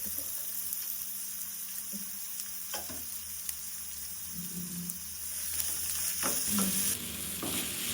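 Salted sliced onions sauté in a pan with a continuous close sizzle, broken by several spoon scrapes and clacks as they are stirred, the frying growing slightly louder toward the end.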